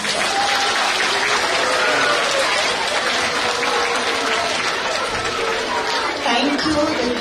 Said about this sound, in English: Let's give your friends a loud round of applause.